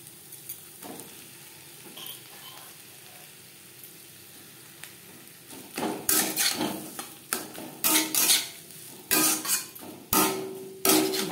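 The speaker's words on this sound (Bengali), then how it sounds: "ভাজা পেঁয়াজ ও লঙ্কার সাথে আলু বেশ ভালো করে মিক্সড করে দেব" Boiled mashed potato is mixed with fried onion and chopped chilli in a pan with the flame off, quiet at first, then a run of repeated scraping and stirring strokes close by.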